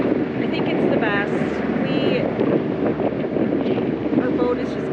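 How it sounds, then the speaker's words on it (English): Sailboat knocked about by steady wind and sloshing waves, with constant rushing wind buffeting the microphone and voices talking faintly beneath. "Our boat is just getting really pushed around,"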